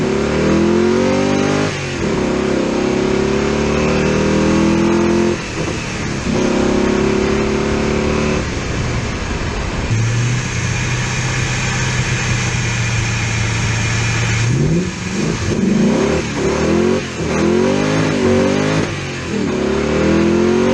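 A Ford Mustang drift car's engine revs hard and loud after a fuel flow repair, rising and falling through several throttle blips with a steadier held note midway, up close and alone with no voices.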